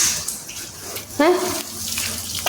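Water runs steadily outdoors, as if hosing, washing or watering trees, with a continuous hiss throughout and a brief voice cutting in near the middle.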